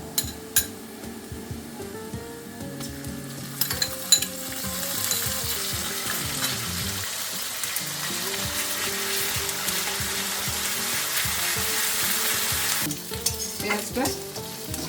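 Onion paste frying in hot oil for a prawn and jackfruit curry, sizzling steadily and close for the whole stretch while a utensil stirs and scrapes the pan in uneven clatters.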